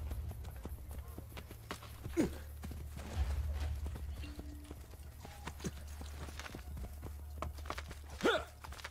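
Horse hooves clip-clop in the video game Assassin's Creed Brotherhood, a steady trotting rhythm of mid-distance footfalls over a low rumbling game ambience, with a few louder thuds and brief effects breaking through.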